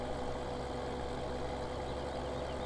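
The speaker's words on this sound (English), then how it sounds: "This tractor does struggle a little bit at the top here." In Farming Simulator, a tractor climbs a slope with its engine straining, giving a steady low-pitched drone that holds constant throughout, close and unbroken, with no voices.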